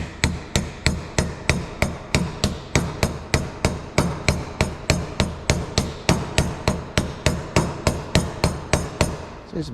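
A hammer taps a bearing onto the shaft of a 2018 Toyota C-HR CVT transmission, with about three evenly spaced metallic strikes per second held steady throughout and no voices.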